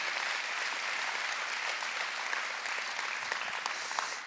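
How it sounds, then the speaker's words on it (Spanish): A church congregation applauding together, a dense steady clapping that fills the room at an even level from start to finish, with a slight fade at the close. "dale un aplauso al Señor"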